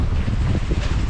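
Wind and large waves while sailing toward the island of Huahine in French Polynesia, heard as a loud, steady gusty roar with low water rumbling beneath it and no voices.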